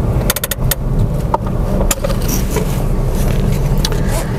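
A Nissan Almera on a test drive pulls in second gear, its engine giving a steady low drone under road noise and a few faint clicks and rattles inside the cabin.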